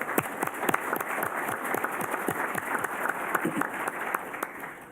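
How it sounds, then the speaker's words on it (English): An audience at a Columbus Metropolitan Club luncheon breaks into sustained applause, many hands clapping in a dense, steady patter that fills the room for the whole stretch. "that needs a round of applause just for doing that"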